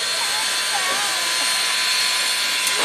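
Loud, constant hiss of escaping steam from Southern Railway 630, a 2-8-0 Consolidation-type steam locomotive, up close and unbroken, with faint tonal whistling beneath.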